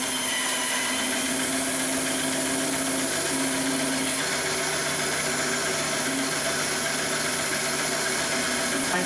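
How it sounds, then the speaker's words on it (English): Bandsaw cutting a mahogany blank held in a kerfing jig for a guitar build, a steady sustained whine and rasp running close and continuous with a constant motor hum beneath and no talk. "we've put our mahogany blank through the bandsaw, through that jig"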